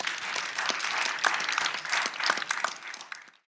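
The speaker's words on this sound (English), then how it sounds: "Please give Marisa a big round of applause." A conference audience at an urban placemaking event in Hong Kong applauds with brisk, dense clapping for a few seconds before it quickly fades away.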